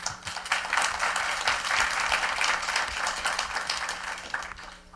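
A room full of people at a college pre-law society debate claps steadily, a dense even wash of applause lasting several seconds without letting up.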